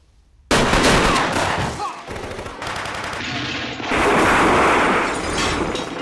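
Rapid bursts of gunfire from a Hong Kong action film crackle loud and dense for about six seconds, with volleys blurring into continuous fusillade and a brief lull midway before intensifying again, no voices.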